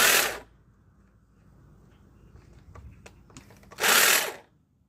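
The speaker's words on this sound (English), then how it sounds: "Hedge cutting today." Two loud bursts of a buzzing hedge trimmer at the start and near the end, with quieter clicks and rustling in between.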